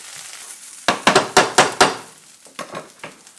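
Potatoes frying in a pan for aloo bhujia being tossed, heard as a quick series of sharp knocks and clatters close by over a low sizzle, followed by a few softer taps, no talking.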